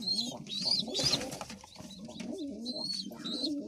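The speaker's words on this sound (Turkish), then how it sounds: "Ondan sonra yine kuşlar getirdim." Pigeons coo in soft, rolling low calls at close range, several birds overlapping, with a few higher chirps mixed in.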